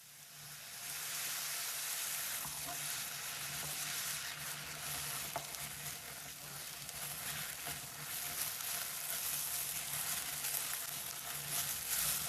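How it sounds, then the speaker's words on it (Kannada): Sliced garlic, ginger and slit green chillies frying in a pan for a Kannada okra gojju, giving a steady, continuous sizzle that stays fairly even throughout with no talking. "ಇವಾಗ ಸ್ಲೈಸ್ ಮಾಡಿರುವ ಬೆಳ್ಳುಳ್ಳಿ, ಶುಂಠಿ ಮತ್ತು ಸ್ಲಿಟ್ ಮಾಡಿರುವ ಹಸಿರು ಮೆಣಸಿನ್ಕಾಯಿ ಸೇರಿಸ್ಕೊಳ್ತಾ ಇದ್ದೀನಿ."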